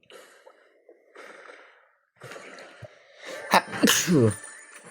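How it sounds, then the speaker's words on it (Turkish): A single sharp sneeze bursts out near the end, preceded by quiet breathing and a faint intake of breath, close to the listener. "anlık bir hapşırma."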